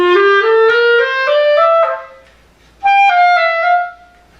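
Clarinet plays smoothly connected slurred notes from an all-state etude, each phrase tongued only at its start: a rising run, a short pause, then a second legato phrase, close, clear and unaccompanied.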